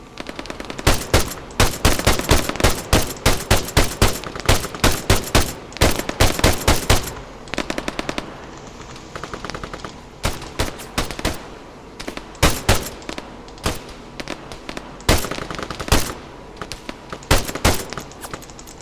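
ARMA 3 machine gun fire: loud, sustained bursts of rapid automatic shots. They keep repeating with short pauses, and some volleys sound nearer while others sound slightly farther off.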